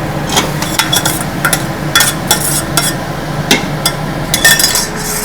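A spoon scrapes and knocks against the metal pot of an Instant Pot while mutton is stirred with onions and tomatoes, giving sharp irregular clinks over a low steady hum, close and fairly loud.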